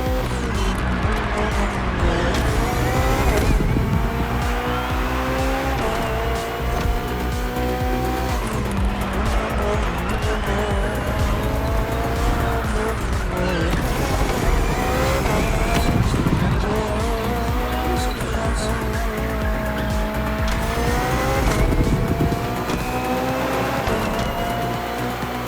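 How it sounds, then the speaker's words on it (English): A BMW hybrid V8 race car in The Crew Motorfest roars loudly and continuously, engine pitch rising and falling through gear shifts, with tire squeal and skidding during hard cornering. "The hybrid V8 will do the rest."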